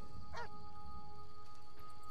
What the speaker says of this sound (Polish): Wściekły pies.